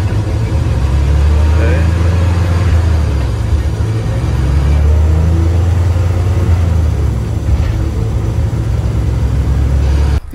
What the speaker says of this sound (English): you guys just saw us kind of letting the car run